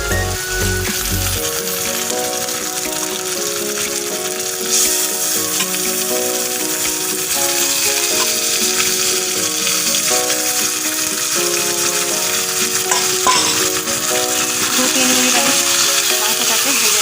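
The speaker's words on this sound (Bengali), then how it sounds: "মাংসটাকে ভেজে নেব।" Meat frying in a pan with onions already browned, a steady sizzle carrying through the whole stretch beneath louder melodic music that plays throughout.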